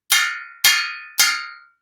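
Metal kitchen objects, a spaghetti strainer and a metal tool, are struck three times at an even pace, each a bright loud clang ringing out and fading before the next.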